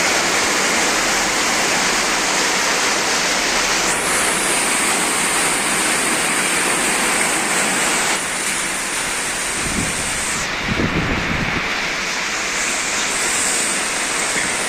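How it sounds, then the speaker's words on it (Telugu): Relentless heavy rain falls on Hyderabad after pouring since morning, a thick continuous roar like a waterfall, loud and near, with a few heavier splashing bursts in the middle. "పొద్దున్న నుండి ఆపకుండా కురుస్తున్న వర్షం హైదరాబాద్లో"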